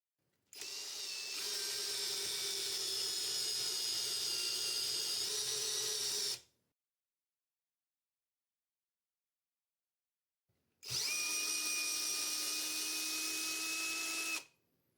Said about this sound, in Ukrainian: Тепер у той же отвір закручу шуруп більшого діаметра.